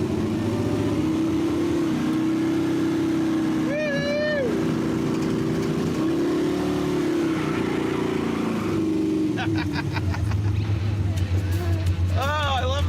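Barn-find Pontiac Firebird at Paradise Dragway, engine droning loud and steady with rising revs and squealing pitch sweeps as the rear tires spin through a burnout, crowd chatter and voices underneath.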